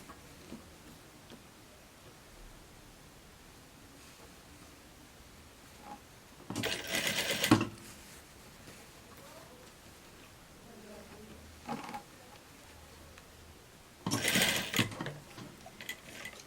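A sewing machine running in two short bursts while stitching a shirt, each burst of steady mechanical whirring lasting about a second, separated by quiet handling noise.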